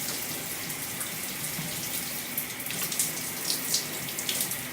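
Steady running water from a shower or tap streams continuously while shampoo is rinsed out of natural curly hair, a close, even broadband hiss with slight splashy fluctuations.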